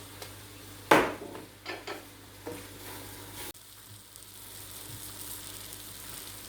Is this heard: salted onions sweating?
yes